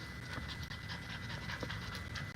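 A dog pants hard and steadily on an outdoor walk, quick rhythmic breaths close by and fairly loud with no talk over them.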